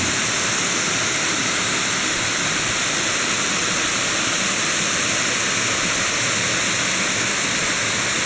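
Ko Luang waterfall in Thailand, a steady, dense roar of falling water that fills the whole clip evenly and loudly, close by, with no voices.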